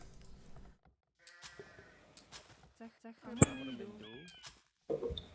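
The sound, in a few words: sheep bleating in video game Age of Empires 2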